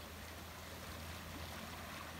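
Rain-swollen stream flowing steadily under light drizzle, a soft continuous rushing of water, fairly faint and distant, with no voices.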